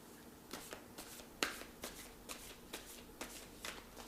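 Deck of oracle cards shuffled by hand, a quick run of soft riffling flicks with one sharper snap, close and quiet.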